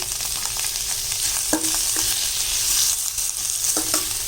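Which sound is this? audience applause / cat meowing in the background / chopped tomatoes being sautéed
chopped tomatoes being sautéed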